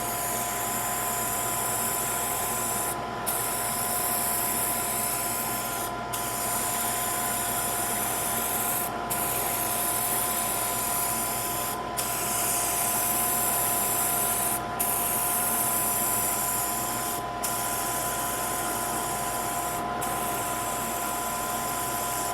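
A spray gun lays a third clear sealer coat onto armor, giving a steady, loud hiss that runs almost unbroken for over twenty seconds, with brief regular gaps roughly every three seconds as the trigger releases.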